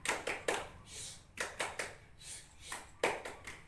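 A class performs the tepuk diam clapping routine, the group clapping together in sharp rhythmic bursts with short pauses between sets, close and fairly loud.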